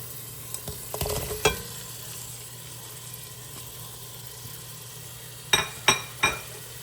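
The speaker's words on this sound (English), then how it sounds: "Now we're gonna add in the onions. We're gonna cook 3 to 4 minutes." Sliced onions cooking in a pan, a quiet steady sizzle over a low hum, with a few clanks of a utensil against the pan early on and a short burst of scraping strokes near the end.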